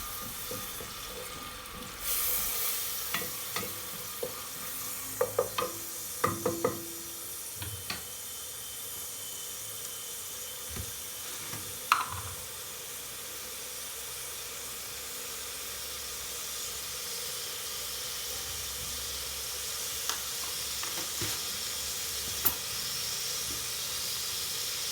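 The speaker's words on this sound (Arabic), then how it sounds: "غنزيدو زيت بلديه، غنديرو هادشي يتشحر مزيان." Finely grated garlic, about four cloves, frying in olive oil in a pot: a soft, steady hiss with scattered small pops and crackles, close and unbroken by talk.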